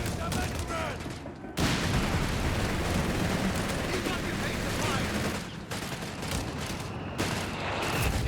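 Battle din in Company of Heroes 3, with dense continuous rumbling mortar and artillery fire and scattered bangs, while a caster talks throughout.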